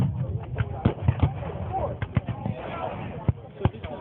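Artillery thumps and scattered musket-like pops ring out at a Gettysburg Civil War reenactment, irregular bangs of varying loudness over steady outdoor background noise and some crowd chatter.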